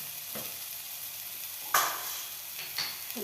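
Spices with turmeric and chili powder frying in a pan for a ridge gourd curry, a steady soft sizzle with a sharper spatter or stir around the middle and a smaller one near the end.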